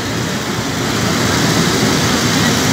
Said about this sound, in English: Turbine is running already here